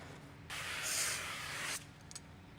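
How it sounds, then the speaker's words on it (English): Liquid sprayed from a bottle onto a VW Jetta car window during a ceramic tint installation; one close, steady hissing burst of about a second, alone in a quiet room. "So I'm going to actually open the seal back up and make sure we spray back here."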